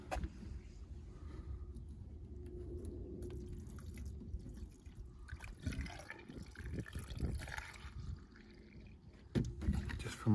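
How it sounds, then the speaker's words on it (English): Screen wash fluid poured into the washer reservoir of a VW Golf Mk7, a steady liquid trickle and glugging under low background rumble, with a few louder splashes toward the end. "so I will just get some screen wash"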